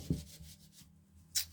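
A battered candle being rubbed clean by hand, giving faint dry scuffing strokes close by, with a brief brighter swipe near the end and no talk.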